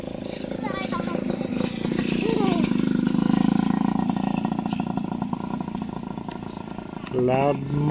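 A scooter with a loud muffler passes along a neighbourhood street, its engine rising and fading as it goes by, heard under ongoing talk close by.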